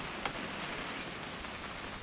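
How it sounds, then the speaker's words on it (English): Rain falls steadily in the video game What Remains of Edith Finch, a soft, even hiss of drops on surfaces with one brief closer patter near the start. "It's gonna rain the whole weekend"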